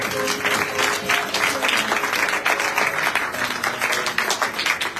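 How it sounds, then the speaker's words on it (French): Dense, sustained applause from a crowd at a church convention, continuous clapping at steady loudness throughout. "Acclamons pour la parole de Dieu"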